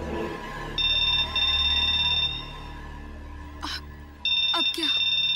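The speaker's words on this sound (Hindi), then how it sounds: "अगर सुल्तान का फोन आए या किसी और का फोन आए तो उठाना मत" A telephone rings in bursts of an electronic tone, pausing between rings, while a person talks over and between them in a tense indoor scene.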